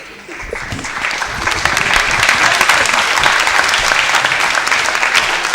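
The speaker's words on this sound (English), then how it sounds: "And a round of applause for the first runner-up" A school debate crowd applauds the first runner-up, Amber High School, at an award ceremony; the clapping starts lighter, then swells into a full, sustained roar of many hands.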